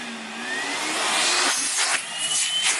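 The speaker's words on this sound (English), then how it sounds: "That's pretty strong for a cordless vacuum." A cordless vacuum cleaner runs steadily with a loud whirring motor whine, rising slightly in intensity partway through, no voices.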